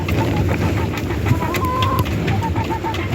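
Chickens cluck in a coop during a cold, windy blizzard, a few short clucks and a drawn-out call rising from a steady, noisy background, fairly close.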